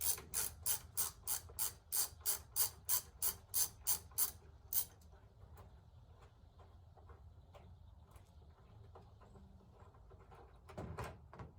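A ratchet with a size 8 socket backs out a cold air intake mounting bolt on a Scat Pack, making a quick run of about fifteen sharp, evenly spaced clicks close up, followed by quiet handling and a brief rustle.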